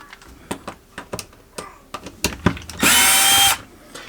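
A power drill driver with a T15 Torx bit works on a screw in a Whirlpool dishwasher, with a series of clicks and knocks from handling, then a short whirring burst of the drill spinning near the end.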